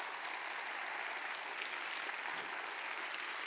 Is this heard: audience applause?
yes